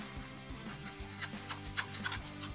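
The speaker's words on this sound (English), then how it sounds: "Scraper, and we're just going to go around the edges" Scraper dragged around the edges of a Detroit-style pizza pan, a series of quick, close scraping and rubbing strokes with light knocks, fairly quiet.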